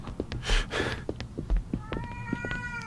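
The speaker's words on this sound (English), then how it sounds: "Shut up, cat." A cat meows several times in the indie horror video game Erie, loud and close, with shuffling sounds between the cries and a faint synthetic tone at the end.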